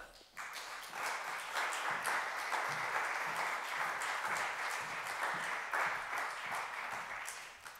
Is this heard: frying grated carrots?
no